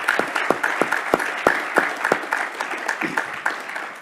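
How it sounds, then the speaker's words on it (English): Conference audience applauding the speakers at the close of a higher-education campus session, a modest room of sparse, distinct claps in an uneven rhythm that thin out toward the end. "give a round of applause to our speakers"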